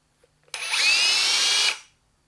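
A Hikoki hammer drill with low speed and an auto stop timer runs in one loud, steady burst of a bit over a second, starting and stopping abruptly, with no talk.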